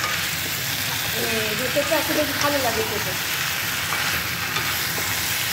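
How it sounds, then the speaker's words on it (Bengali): Potatoes are stirred in a pan with spices, frying with a constant sizzle and occasional scraping of the spoon while a person talks over it. "এখন একটু নাড়াচাড়া করে এই মশলাগুলো ফ্লেভারটা আলুর মধ্যে ঢুকে যাবে"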